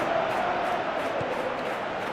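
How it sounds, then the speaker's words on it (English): A football stadium crowd during a Real Madrid match gives a sustained roar of reaction, a broad, steady wash of distant voices with no single voice standing out. "you can hear how the crowd are reacting to this too"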